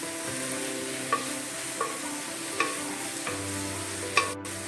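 Curry leaves and ginger-garlic paste frying in oil for fish biryani, a continuous close sizzle broken by a few light utensil taps against the pan.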